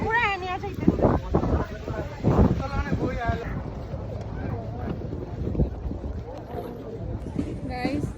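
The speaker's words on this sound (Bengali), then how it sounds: "দেখেন গাছগুলা কিভাবে নড়তেছে কত বাতাস" Strong wind gusts through swaying trees, a rough, roaring rush buffeting the microphone throughout while a person talks over it nearly the whole time.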